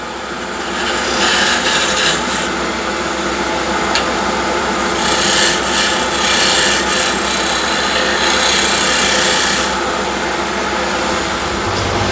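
A refiner tool rubs steadily across a wooden blank, making a continuous close scraping rasp with light swells as the strokes vary, with no talking.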